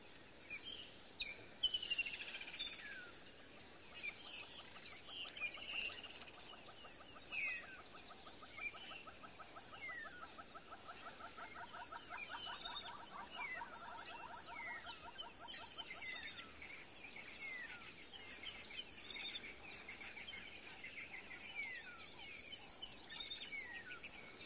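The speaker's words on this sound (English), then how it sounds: "I want you to just have a listen, because the dawn chorus this morning has carried on for ages" Dawn chorus at sunrise on an African safari: many birds chirp, trill and call at once, a steady layered chorus near and far with repeated rhythmic song phrases, no talking.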